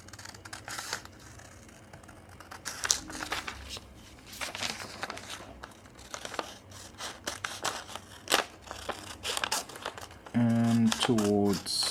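Scissors snipping through a paper sewing pattern in repeated short cuts, close and moderately loud, mixed with paper crinkling and a voice talking over much of it.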